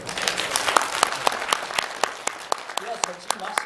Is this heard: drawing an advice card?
no